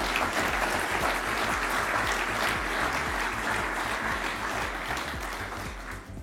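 Sustained audience applause at a Grand Paris event for two ministers, dense and steady throughout, slowly thinning toward the end, with no talk over it.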